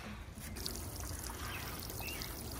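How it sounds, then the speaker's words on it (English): Water trickles and pours steadily from a toy waterfall, a soft continuous splashing babble heard close and alone, without talk. "Caleb's drinking out of the waterfall."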